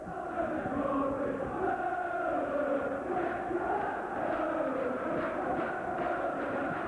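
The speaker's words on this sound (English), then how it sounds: "the crowd here just starting to sing in voice and praise for each respectful team" A football crowd at a 1996 Port Vale versus Stoke City match beginning to sing, a distant, steady mass of voices with a sustained chanting tone and no clear breaks.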